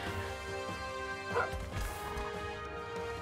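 A dog companion in the video game Monster Hunter Stories 2 barks and yips amid dense battle noise, crashes and music, all at a steady, fairly quiet level.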